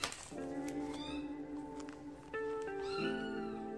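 A cat meows close by, a few drawn-out tonal calls rising and falling against a quiet indoor room.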